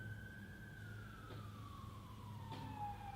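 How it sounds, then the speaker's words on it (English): A far-off emergency siren drifts slowly downward in pitch as one sustained wail, faint above a low, steady background rumble. "like the sound of the siren"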